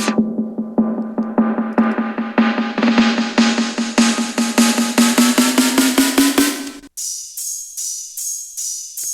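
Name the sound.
Snare sample in the drop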